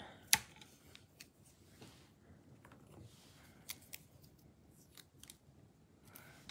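Scissors cutting a Sweet Pop paper card embellishment, one sharp close snip near the start followed by a few faint soft clicks and handling sounds in a quiet room.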